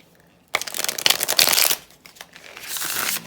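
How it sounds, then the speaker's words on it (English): Tarot cards riffle and slap in two brisk bursts of shuffling, close and crisp, with a short pause between them. "shuffle a couple more times"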